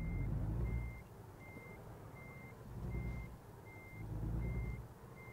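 In American Truck Simulator, a truck backs up with its reversing alarm beeping at an even pace, seven or so clear tones over a low rumbling engine that swells and fades.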